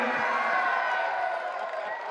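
An audience at a Hindi poetry recital fills the space with dense, continuous crowd noise that reads as applause and cheering, steady and fairly loud throughout, easing slightly near the end.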